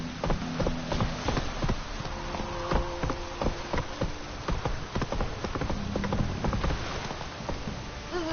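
Hooves of Roach, a horse in The Witcher 3 video game, clip-clop in a steady galloping rhythm at close range under light game ambience, with no talking.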